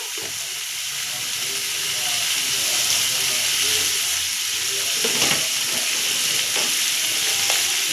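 Hilsa fish oil fries in a pan with a pinch of salt and turmeric, giving a loud, steady, close sizzle and hiss that runs throughout, with faint stirring scrapes underneath.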